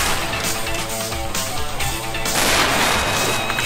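Rapid gunfire in the video game Strike Force Heroes 3, a dense, continuous burst of shots with a sniper rifle among the weapons, loud and steady throughout.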